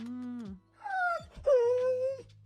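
A dog whimpers in a short series of three high, wavering whines, the first shorter and the last drawn out, close and clear with no talking.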